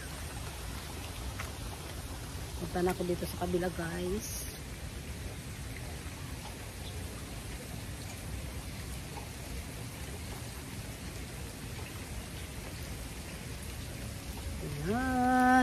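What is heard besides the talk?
rain falling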